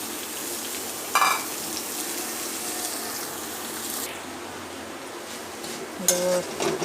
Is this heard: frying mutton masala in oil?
yes